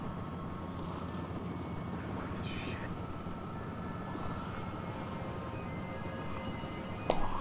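Helicopter in an episode of the TV drama The Walking Dead, season 8, giving a steady, moderately quiet drone of rotor and engine noise that stays even throughout, with a faint click near the end.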